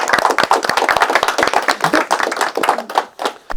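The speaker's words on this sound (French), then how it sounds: "on va vous applaudir tous les deux." Audience applause for two performers at a school workshop show, dense clapping from many hands filling the room, steady and loud throughout with no voices over it.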